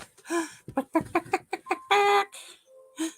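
A Barred Rock hen clucks in a run of short, fairly loud calls with pauses between them, ending in one sustained squawk and a final cluck.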